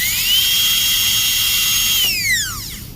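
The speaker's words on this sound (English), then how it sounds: "I am slightly rotating the 330 burr, making it clean cut." Dental drill with a 330 burr cutting a tooth cavity, a loud high steady whine that holds for about two seconds, then drops in pitch and winds down.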